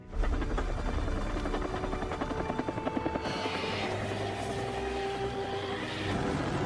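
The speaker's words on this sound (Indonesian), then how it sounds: "Mereka meminta bantuan helikopter untuk mengeluarkan sarkofagus itu." A helicopter in a film scene lifting a sarcophagus, its loud rotor thump and engine whine steady and close throughout, with a shift in tone partway as the scene cuts, amid a dense cinematic soundtrack.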